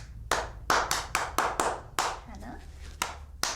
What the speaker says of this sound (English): Hannah claps the second one, EE claps the third one, and we'll all clap the last one together.